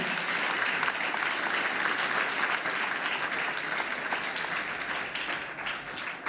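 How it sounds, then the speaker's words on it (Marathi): An audience at a talk on parents breaks into loud, sustained applause, dense clapping that holds steady and tapers only slightly at the end. "तुमच्या साठी तुम्ही टाळ्या वाजवा"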